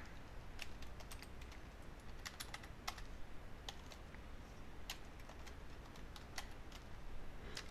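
Fingers type on a computer keyboard at a desk, with quiet, irregular key clicks in short runs and pauses, faint and close.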